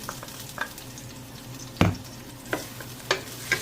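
Onion sautéing in cooking oil for a beef vegetable soup, a low steady sizzle broken by a few sharp stirring scrapes and clatters, close and moderately quiet with no talking.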